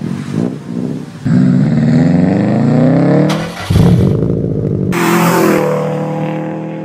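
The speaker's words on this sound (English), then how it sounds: "We all know the iconic, coveted sound of that Subaru rumble." Exhaust rumble from a naturally aspirated 2007 Subaru Legacy Wagon fitted with a Nameless axleback, loud and close with rising revs, a brief drop near the middle, then a sustained drone.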